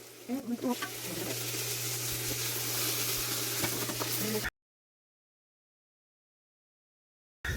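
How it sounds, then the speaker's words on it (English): Onions and green peppers sizzle steadily in pots as they caramelize, a close, continuous frying crackle with a few stirring knocks at the start, then sudden silence. "our onions are almost halfway caramelized"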